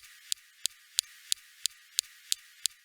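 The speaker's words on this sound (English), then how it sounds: "Next, we have the SuperCam laser zapping rocks." The SuperCam laser on the Mars rover zapping rocks, a series of eight sharp, faint clicks evenly spaced about a third of a second apart over a thin background hiss.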